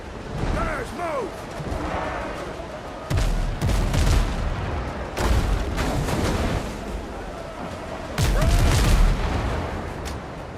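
Ship cannons fire in the Windrose naval video game, three heavy booming volleys at roughly 3, 5 and 8 seconds, each a loud broadband blast rolling over steady sea and battle ambience.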